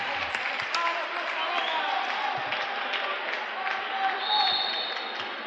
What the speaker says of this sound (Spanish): Vean cómo ha sido celebrado por el público de la casilla.